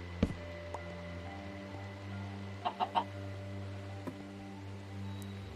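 Video-game chicken lets out a short run of three clucks midway through, fairly clear above a steady low hum, with a few faint clicks scattered around and no talking.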